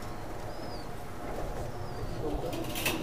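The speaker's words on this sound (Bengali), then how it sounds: "এটা ওমান ব্লাড লাইনের কিছু রানিং কবুতর বা নিউ অ্যাডাল কবুতর 9-10 পাকের" Oman bloodline running pigeons, adults of nine to ten moults, coo softly amid steady background noise, with a couple of brief high chirps and some faint voices behind.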